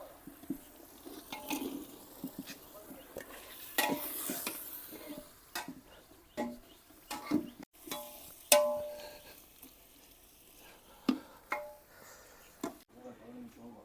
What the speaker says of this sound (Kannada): 1 kg ಮಶ್ರೂಮ್ ಹಾಕ್ತಾ ಇದ್ದೀನಿ ಇವಾಗ.